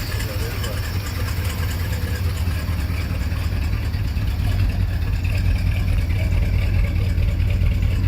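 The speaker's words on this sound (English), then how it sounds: "Bronco's running great" A 1980 Ford Bronco engine, just restarted after seven years, idles in a steady low rumble evenly throughout, with people talking over it.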